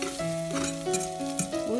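Pasta being stirred in a hot pan, with a steady close sizzle and scraping stirs, while a sustained tonal melody runs underneath.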